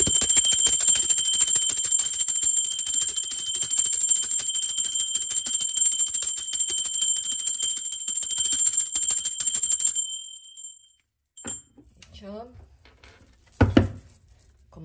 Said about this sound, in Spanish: va campana y empezamos la lectura.